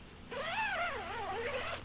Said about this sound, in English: And this is a two-way zipper.